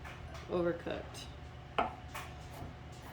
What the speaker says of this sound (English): I'm just kind of thinly chopping up the stem so that gets in there.